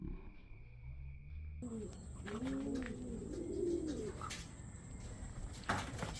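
A racing pigeon that has just landed on a rooftop coos in soft, rolling phrases, close by, over low outdoor background noise.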